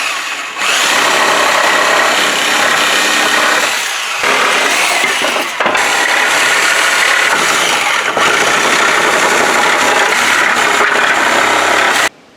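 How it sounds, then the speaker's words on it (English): A reciprocating saw fitted with a metal blade cuts through the nails holding wooden pallet boards, making a loud, harsh buzzing rasp that runs almost continuously with a few brief pauses and stops abruptly at the end. "I take my reciprocating saw with a metal blade on it"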